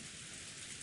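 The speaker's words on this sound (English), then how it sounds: "The sound of the rain, the sound of a waterfall." Steady rain ambience from the Umineko visual novel game, a dense, even hiss of falling rain that holds constant throughout the short stretch with no voices.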